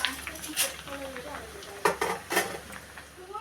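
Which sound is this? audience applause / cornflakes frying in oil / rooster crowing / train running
cornflakes frying in oil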